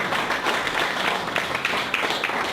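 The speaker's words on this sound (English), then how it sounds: "let's give Jason Brown a round of applause" An audience at a business media talk welcomes a speaker with a steady, close round of applause that fills the whole moment without pause.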